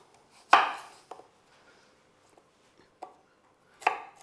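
A knife chops an onion into thin slices on a board for fried fish with sumac: a few sharp, separate knocks with pauses between them, close and fairly soft.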